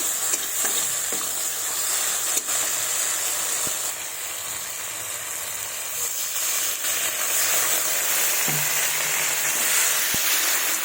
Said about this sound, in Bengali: দিয়ে ভালোভাবে কষিয়ে নেব মশলাটাকে যতক্ষণ না তেল ছাড়ে